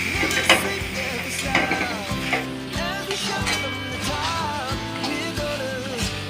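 Duck meat masala is stir-fried in a pan, with a steady sizzle under frequent scraping and clinking from a spoon against the metal.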